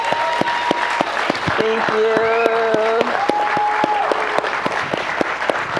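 Audience applause at a film festival evening honoring an actress: a steady, dense wash of clapping from a large crowd fills the whole stretch, with a voice speaking briefly over it.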